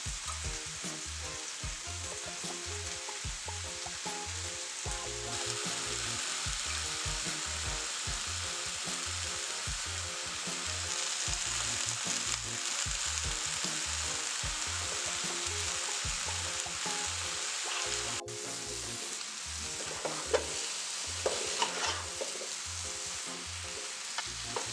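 Breadfruit simmering and frying in a pot of Caribbean oildown, a steady broadband sizzle with rhythmic low bubbling and occasional stirring clatter, continuous and fairly close with no talking.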